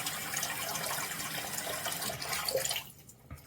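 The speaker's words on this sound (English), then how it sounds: "Get a little water in there." Steady broadband rush of water pouring from a tap into a Pilot fountain pen converter, continuous and close, cutting off abruptly near the end.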